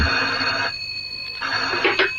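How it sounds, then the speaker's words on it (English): A telephone rings in a radio drama, giving two bright, bell-like bursts with a short gap between them. The ringing is moderately loud over a faint background hum. "This may be it now, the phone call from Mazzotti"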